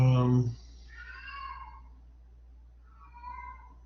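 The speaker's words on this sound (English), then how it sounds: "my cat is singing." A cat lets out a drawn-out, wavering meow, then two softer, higher mewing calls follow after a pause, fairly close.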